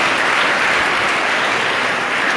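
Church congregation at a mass in Jacmel applauding a school group, a thick continuous burst of many hands clapping at steady loudness throughout the short stretch.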